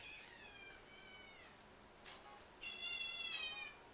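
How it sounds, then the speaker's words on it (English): A cat meows several times in quick succession, the calls close and clear, ending with a longer, stronger meow; no one talks. "That's my cat meowing like crazy."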